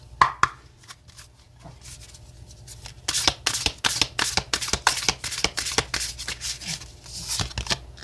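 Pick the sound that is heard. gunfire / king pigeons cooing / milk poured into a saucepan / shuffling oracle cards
shuffling oracle cards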